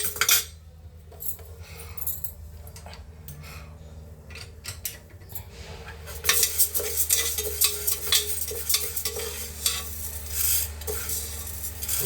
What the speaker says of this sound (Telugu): కందిపప్పు అయినా పెద్దపప్పు అయినా సరే కొంచెం వేపండి